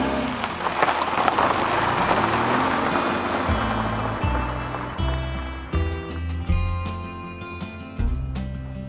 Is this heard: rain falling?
yes